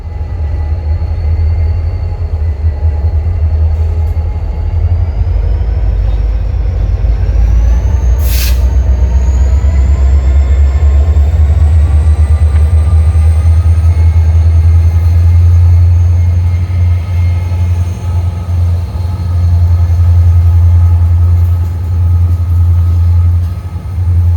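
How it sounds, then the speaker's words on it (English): A loud, steady rumble of Norfolk Southern freight locomotives working Allentown rail yard nearby, with a continuous low engine drone, a brief high air hiss partway through, and faint squealing tones. "train 11K is seen working Allentown Yard"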